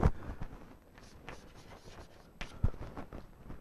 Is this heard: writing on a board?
yes